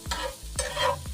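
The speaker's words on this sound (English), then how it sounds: "Can you hear the sizzling of the pan?" A close frying-pan sizzle of ackee and saltfish with two or three scraping stirs of a utensil across the pan.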